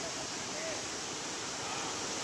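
Waterfall at Dhonabanda near Vijayawada: a steady, dense rush of falling water fills the whole stretch as an even, unbroken roar with no distinct splashes.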